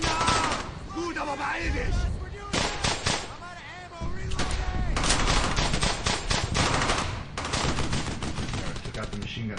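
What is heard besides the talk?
machine gun team firing in video game Brothers in Arms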